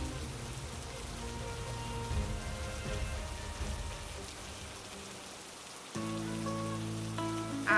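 Steady rain pours in a cartoon, a continuous wash of falling drops that fills the scene at moderate loudness. Layered musical tones sit underneath, and the texture shifts and brightens near the end.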